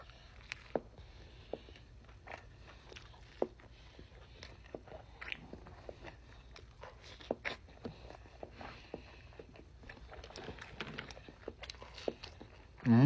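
Someone eating a homemade burger quesadilla with sauce, soft close biting and chewing clicks scattered through a quiet room, faint and intermittent with no talk.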